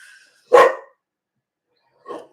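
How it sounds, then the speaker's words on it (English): Maggie, a big dog still in training, lets out two loud barks close to the microphone, the first deep and full, the second shorter and softer about one and a half seconds later, with silence between. "That is a big girl bark"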